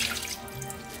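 Tap water runs steadily into a sink while rice is washed, a close, continuous splashing hiss with no voices.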